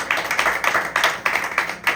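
An audience claps during a church sermon, heard as a short run of distinct, slightly uneven claps that pulse in a loose rhythm, fairly close.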